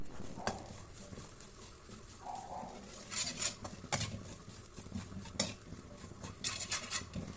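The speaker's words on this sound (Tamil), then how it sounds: "அதே கடாயில் தேங்காய் துருவலையும் வறுத்துக்கலாம்." Grated coconut roasted in a kadai, with a spoon scraping and stirring against the metal pan in scattered clinks and scrapes over a low background, no talking.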